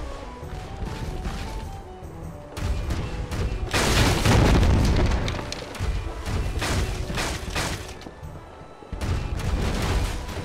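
Cannon fire and explosions in a ship battle in the Pirates Online video game: dense overlapping booms and crashes with a big burst midway, in a continuous loud battle din.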